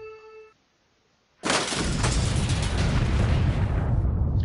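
A nuclear missile strike in the strategy game Supreme Ruler Ultimate: a short chime, a second of silence, then a sudden loud explosion that swells into a sustained roaring rumble lasting several seconds.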